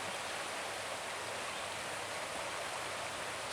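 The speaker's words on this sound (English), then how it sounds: "there's a little trickle of a baby waterfall tucked in there" A small forest waterfall trickles in a steady, unbroken wash of water sound, close and even, with no voices.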